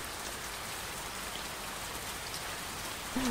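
Steady rain pours down in a dense, even hiss, falling continuously and close by with no voices or other sounds.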